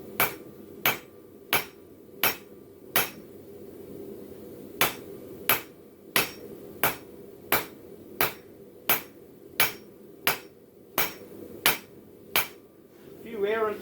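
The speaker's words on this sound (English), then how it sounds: "Errant hammer blows." Hammer blows ring out as a blacksmith forges steel tongs, a steady series of about twenty sharp, loud, evenly spaced metallic strikes with a brief pause partway through.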